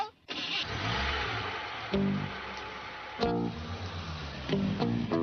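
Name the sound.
car engine starting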